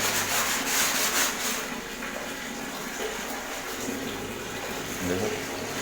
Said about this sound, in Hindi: हम ब्रश की मदद से एक अच्छे से साफ कर लेंगे। पानी डालते हैं, इसको मशीन से क्लीन करेंगे।